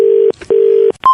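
Telephone line tones after a dropped call: two long steady beeps with brief gaps, then a higher tone starting, loud and alone on the line.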